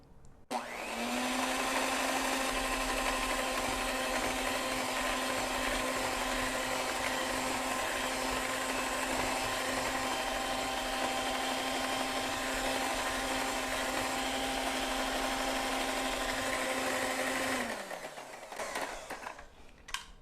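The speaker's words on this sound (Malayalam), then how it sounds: "അപ്പം ഒന്നൊന്നായിട്ട് നമുക്ക് എഗ്സ് ഇട്ട് ഈ ബാറ്റർ നല്ലോണം ബീറ്റ് ചെയ്ത് എടുക്കാം." Electric mixer runs steadily for about seventeen seconds, beating eggs into a butter, sugar and vegetable oil batter for a vanilla rum bundt cake, a loud continuous motor whine with a bowl rattle, then spins down and stops near the end.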